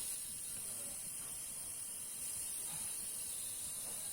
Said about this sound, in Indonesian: ini saya coba potong perlahan-lahan. Di sini juga mengeluarkan gas freon.